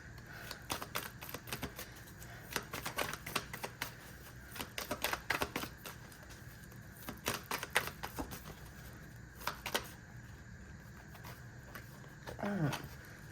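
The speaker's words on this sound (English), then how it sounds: "Let me shuffle." Repeated bursts of crisp card riffling and snapping, several quick clusters spread across the clip, close and fairly quiet, with faint background murmur.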